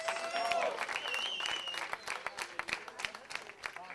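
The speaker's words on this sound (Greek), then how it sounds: "ένα δυνατό χειροκρότημα" An audience applauds at a live band performance at SixDogs, steady dense clapping filling the room with scattered cheers, fairly distant and even throughout, with a few louder individual claps standing out toward the end.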